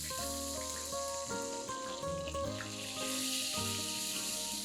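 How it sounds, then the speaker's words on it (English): Soft, steady sizzling of eggplant pan-frying in hot oil, faint and continuous beneath background music. "Once the oil is heated, I am placing the Baingan to pan fry."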